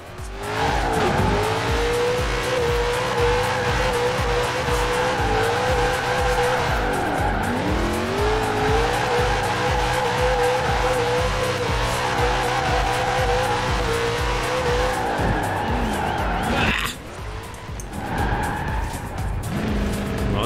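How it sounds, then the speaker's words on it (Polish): A truck drifts in the racing video game Forza Horizon 4, its engine droning loudly while tires squeal continuously through long slides, the pitch shifting with each change of direction before a brief break near the end. "To jest jedyna chyba ciężarówka, która tak dobrze driftuje."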